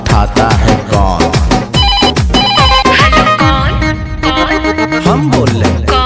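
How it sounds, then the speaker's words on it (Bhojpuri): Ringtone-style telephone ring woven into a Bhojpuri song, with repeated bright electronic ring bursts over loud music and singing throughout. "लगा ले फिर से फोन"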